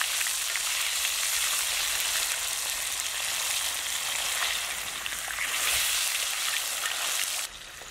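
Pomfret fish fries in oil with a dense, loud and continuous sizzle that holds steady for several seconds before dropping slightly at the end; up close, with no talking.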